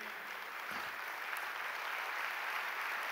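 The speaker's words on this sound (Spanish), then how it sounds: "qué aplauso más luchado" Applause from a church congregation during a sermon, a steady, moderately loud wash of clapping that runs through the whole moment, thin and slightly distant, with no voices over it.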